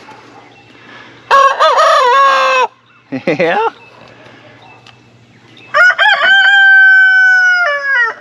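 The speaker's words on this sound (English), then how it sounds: "the rooster's starting to get their crows" Two loud rooster crows close by, separated by a short burst of clucking; a voice briefly speaks in between.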